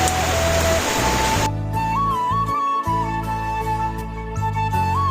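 Rain falls outside as a steady, dense hiss for about the first second and a half, then gives way to tonal, music-like sounds.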